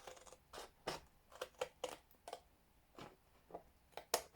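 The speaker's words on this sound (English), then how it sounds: "I'm using big scissors for this" Repeated sharp snips of large scissors cutting paper, about a dozen uneven crunchy cuts close by, with brief pauses between them.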